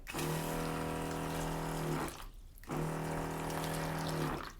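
Water rushes steadily through a RinseKit PRO PAK Auto-Nozzle in two bursts, a strong pressurized spray with a humming pump tone, stopping briefly for a moment in the middle before resuming.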